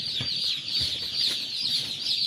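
Young chicks peep continuously under a heat hover, close by, with soft clucking through a steady high chirping.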